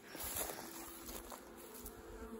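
Honey bees buzz steadily around a small mating nuc, a faint, continuous hum of many insects close by with no voices.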